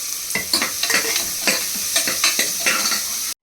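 Chopped onion and curry leaves sizzle in hot oil in a cooker, with repeated stirring scrapes of a spoon against the pan over a steady crackle.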